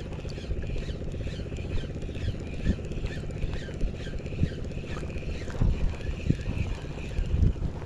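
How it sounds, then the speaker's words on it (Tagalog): A sudden gust of wind sweeps across an open outdoor spot, producing a steady low rumble with several sharper buffeting bursts toward the end. "Parang biglang humangin."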